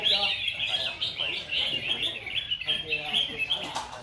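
A red-whiskered bulbul sings at a bird song contest in Thuận An, giving bright, rapid chirping phrases that repeat over a busy outdoor crowd background with people talking nearby.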